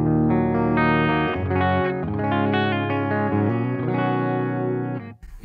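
A clean-channel electric guitar tone through a Line 6 Helix, with chords and single notes played in a steady phrase and colored by chorus and reverb, close and full before stopping abruptly near the end.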